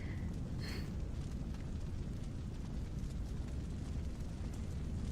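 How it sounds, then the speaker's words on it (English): A deep, continuous rumbling roar like a massive explosion, steady and dense in the low end from start to finish, with no talking. "Cool guys don't look at explosions"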